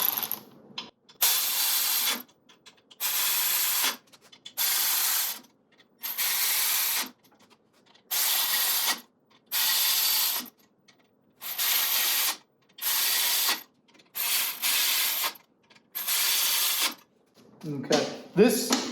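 A small power gun runs down the crankshaft bolts on a small block Ford engine, giving about a dozen loud, close, buzzing ratchet bursts, each roughly a second long, separated by short silences.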